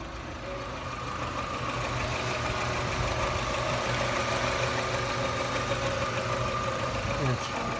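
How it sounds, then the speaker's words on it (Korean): A BMW 320d diesel car engine idling steadily with a low, even rumble and faint knocking clatter, recorded up close throughout. "BMW 320D를 이번에 주문하셨다네요."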